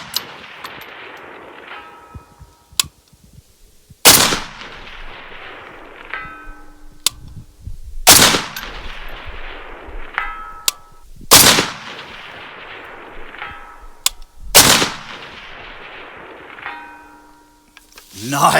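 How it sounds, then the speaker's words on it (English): An M1A SOCOM rifle firing at steel targets about 500 yards away on a range, with five loud, sharp shots spaced several seconds apart, each followed by a faint ringing clang from the distant steel. "I've been banging away on the steel up there, 500 yards with the scout scope."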